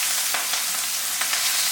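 Chopped onions and green chillies frying in hot oil for Kathiyawadi ringan no olo, a dense continuous sizzle with faint stirring taps, no voices.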